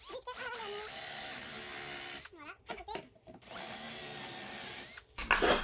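A step drill bit bores through a panel during a camper van conversion, a steady close whine that runs for a couple of seconds, breaks off, then starts again, with a short louder burst near the end.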